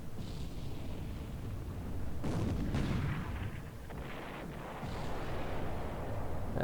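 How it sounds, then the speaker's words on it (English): Heavy naval guns of destroyers and a battleship firing in a War in the Pacific game battle off Ironbottom Strait, a dense run of booming blasts and rumbling bursts, loudest in the middle, with no talk. "And they're using the big guns."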